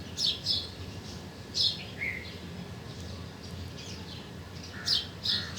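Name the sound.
nightingale calls in the distance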